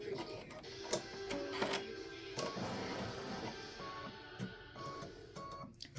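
An embroidery machine stitches a panel with a rapid mechanical chatter and irregular thumps, steady and close, with soft sporadic voices underneath.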